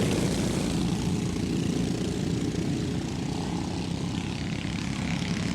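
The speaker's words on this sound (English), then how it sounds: "Green flag, we're racing again with the 9 horsepower mini sprints." Small 9 horsepower mini sprint race cars speed around an oval short track at a summer speedway event, their engines a steady, continuous buzzing drone that stays moderately distant throughout, with faint crowd or announcer sound beneath.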